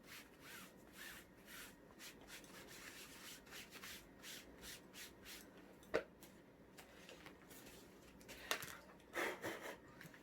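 Chalk pounce is wiped through a stencil laid on a hard flat surface, a faint, quick back-and-forth scrubbing of soft strokes repeated in a steady rhythm, with a couple of small sharp taps near the end.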